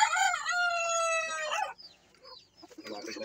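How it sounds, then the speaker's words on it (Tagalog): A rooster, mate to a native hen among silky and heritage chickens, gives one loud, close, drawn-out crow lasting about a second and a half, followed by softer clucks and rustling. "Ito yung rooster naman na kasama niya."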